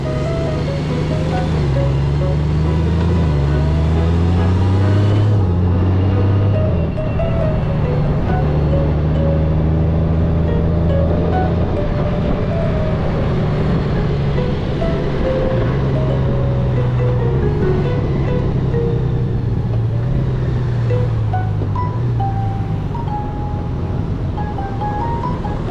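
A 2024 Honda GoldWing GL1800 touring motorcycle on a road test ride, its engine droning steadily with rising and falling revs through gear changes, heavy wind rush throughout and no talking.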